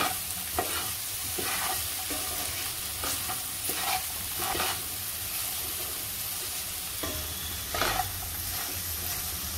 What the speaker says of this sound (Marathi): ओपन गॅसवरतीच आपण मीडियम गॅसवरती चांगली परतून घ्यायची भाजी